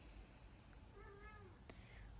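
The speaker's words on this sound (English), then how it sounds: "there's my cat, my only friend." A pet cat gives a short, quiet meow close by, a single drawn-out call followed by a brief sharper sound, against a soft room hiss with no talking.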